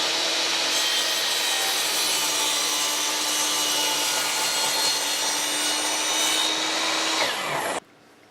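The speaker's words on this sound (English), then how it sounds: "I made this quick jig to hold the crown molding in position to make proper miter cuts." A saw cuts a miter through crown molding held in a jig, a loud continuous rasping whine running steadily for several seconds before stopping abruptly.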